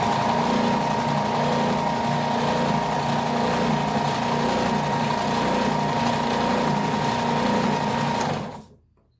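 A new Ridgid oscillating belt/spindle sander runs with a loud, steady mechanical whir and hum, with a faint rubbing note, then cuts off abruptly near the end.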